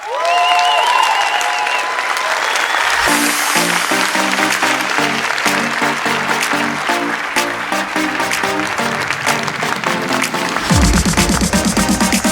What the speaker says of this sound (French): Applaudissements au gagnant.